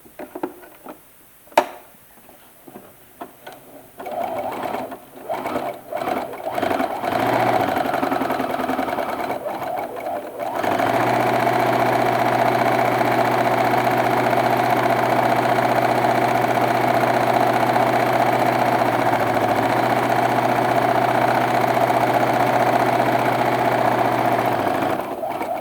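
Sewing machine running a tight, dense zigzag stitch on organza to make flower petals. Starts with a few short stuttering bursts, then a steady loud whirring hum that holds continuously to the end with no talk.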